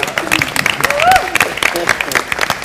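Studio audience applauding at a comedy mimicry show, a short burst of quick, close clapping with a voice speaking over it.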